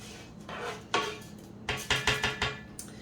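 Spanish rice being stirred in oil in a pan: a spoon scrapes and clatters against the pan in a series of close, moderately loud strokes, irregular at first and then a quicker run of scrapes.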